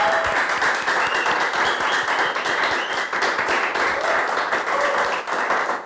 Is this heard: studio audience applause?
yes